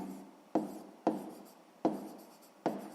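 A pen writes numbers by hand for a sixth-grade maths exercise, with four distinct scratchy strokes at irregular intervals, close and fairly quiet.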